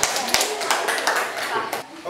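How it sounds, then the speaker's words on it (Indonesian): A classroom of students claps briefly for a group, giving sharp, close hand claps in a loose cluster, with voices audible around them. "tepuk tangan untuk kelompok 4"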